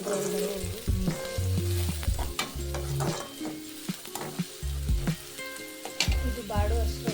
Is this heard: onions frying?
yes